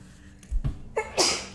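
A single sharp sneeze rings out loudly after a couple of soft breaths, heard close up during a casual tabletop game session.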